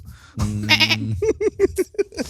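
Goat bleating, a drawn-out wavering cry followed by a rapid run of short stuttering bleats, close and clear with no talk.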